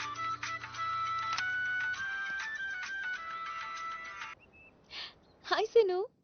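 A phone ringtone plays over speakerphone, a steady looping electronic ring that runs for several seconds and then cuts off, followed by brief breathy vocal sounds, close and clear in a film scene.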